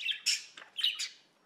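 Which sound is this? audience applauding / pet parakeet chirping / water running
pet parakeet chirping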